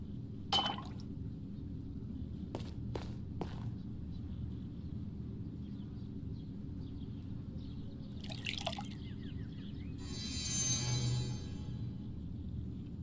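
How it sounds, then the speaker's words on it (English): In the video game Black Mirror, water is poured into a bowl inside a tomb. A few scattered drips give way to a brief trickling pour over a steady low ambient drone. "I poured the water into the bowl."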